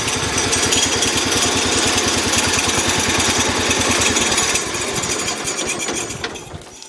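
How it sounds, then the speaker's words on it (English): Loud, continuous mechanical clatter from a Massey Ferguson 1200 lawn tractor, a rapid rhythmic rattle of rigging knocking against something as it spins, easing off toward the end. "what you heard down there with the rattling and stuff, it's because of the rigging hitting off something as it spins"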